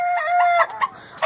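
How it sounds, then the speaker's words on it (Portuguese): Young chickens in a coop cluck and call in short, close, nasal bursts, with a sustained tonal note at the start followed by a few quick squawks. "Aqui estão os franguinhos, né?"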